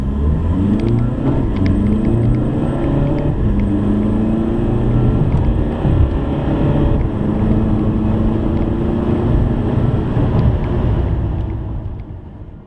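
Tuned Volkswagen TDI diesel car making about 205 horsepower accelerating hard, a loud, close, continuous engine roar rising through the revs and fading near the end.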